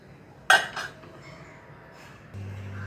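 A lid set down on a pot of urad dal cooking on the stove, giving one sharp metallic clink followed by a softer rattle as it settles, then a low steady hum underneath.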